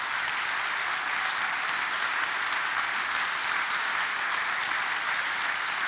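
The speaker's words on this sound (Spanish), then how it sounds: "me gustaría darle un fuerte aplauso a estos líderes" Steady audience applause for volunteer camp leaders at a church gathering fills the space evenly and continuously, a dense wash of many hands clapping at moderate distance with no voices standing out.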